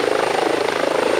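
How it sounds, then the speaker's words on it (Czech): A police helicopter fitted with a thermal camera comes in to land, its rotor and engine making a loud, steady, throbbing drone that fills the whole stretch without any voices. "Pilot vrtulníku právě přistává k úvodní poradě"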